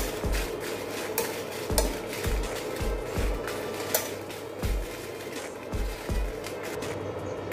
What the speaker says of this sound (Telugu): ఇవి కూడా లో ఫ్లేమ్ లో ఇవన్నీ కూడా లో ఫ్లేమ్ లోనే పెట్టి వేయించుకోవాలి